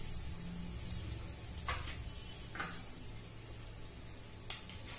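Tomatoes fry in a pan for Bengali mutton curry (mutton lal jhol) with a soft, constant crackling sizzle at low volume, broken by a few brief spatters and one sharp tap near the end.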